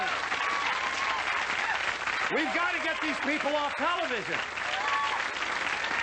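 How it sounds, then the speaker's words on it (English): Steady applause from a television talk-show studio audience in 1990, continuous and fairly loud, while someone talks over it. "Wait a minute, you're applauding."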